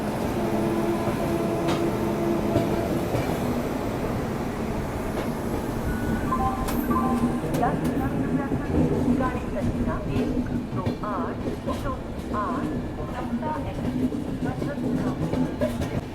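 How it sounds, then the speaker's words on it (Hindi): Khajuraho Udaipur Express pulling out of Jhansi railway station, a steady low rumble of rolling rail cars with faint clicks and squeals, continuous and fairly close, with a voice speaking over it. "तो अपनी ट्रेन निकल चुकी है झांसी रेलवे स्टेशन से"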